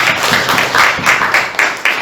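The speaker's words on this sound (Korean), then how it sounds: "하나님께 영광의 박수 올려드립니다" A church congregation applauds during a Thanksgiving worship service, with a brief burst of dense, fairly close clapping that pulses in uneven waves and no speech over it.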